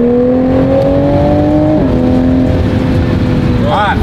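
A JB4-tuned Toyota Supra engine holds a loud, close, sustained rev with a rising and shifting tone, then settles lower before a brief higher whine at the end; voices are faintly present.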